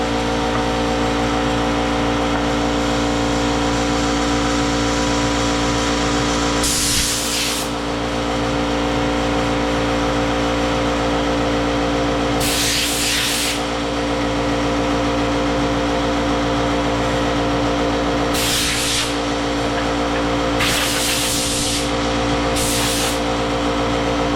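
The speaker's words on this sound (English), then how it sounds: "If I blow that with the air hose and then do this" Air hose blasting sanding dust off a freshly sanded wooden cutting board, a loud steady hiss with several sharper bursts of rushing air, alone without talk.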